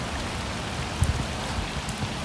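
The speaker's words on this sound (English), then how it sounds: "Once more, out here in the rain." Steady rain falls on a lake during a bass fishing outing, a constant close hiss of drops with a couple of brief low thumps partway through and no talking.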